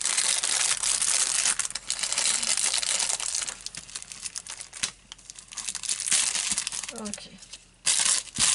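Crinkly plastic packaging is torn and crumpled away from a pair of knitting needles in sizes 4.5 and 5.5, with close, busy rustling bursts and someone speaking over it.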